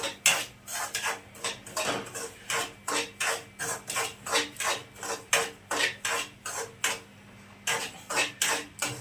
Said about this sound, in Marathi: तर इकडे बघा रवा भाजायचं चालू आहे अजून.